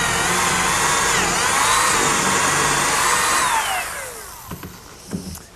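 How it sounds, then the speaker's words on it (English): A power drill bores a hole with a 3/8 inch bit for a bolt in a workshop, a loud steady whine with pitch that rises and falls, then winds down and stops near the end, followed by a few light clicks. "Now I'll drill a hole with a 3/8 inch bit for the unthreaded portion of the bolt."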